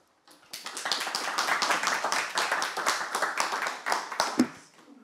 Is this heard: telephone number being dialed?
no